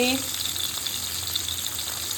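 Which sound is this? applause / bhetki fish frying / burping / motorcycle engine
bhetki fish frying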